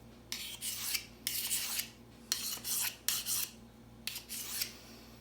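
A sharpening stone scrapes across a knife blade edge in about seven short rasping strokes, close and alone, each a gritty rub with brief pauses between.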